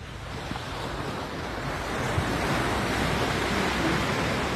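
Ocean waves wash steadily onto a busy Thai beach on a weekday morning, a continuous loud surf roar with some wind buffeting the microphone and no voices.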